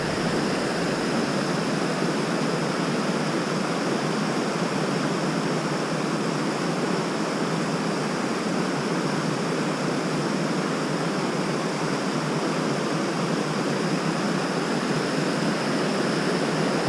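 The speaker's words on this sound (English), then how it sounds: "I love the sound of the river." Thredbo River rushing through a bouldery gorge makes a steady, loud broadband roar of moving water, constant and unbroken from start to finish with no voices.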